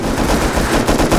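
Rapid automatic gunfire rattles in a dense burst, loud and close, like shooting in the video game Rust.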